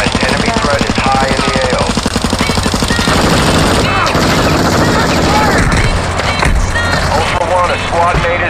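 Rapid automatic gunfire crackles loudly in a Call of Duty DMZ firefight against an enemy team, with dense bursts of shots and players talking urgently over the shooting.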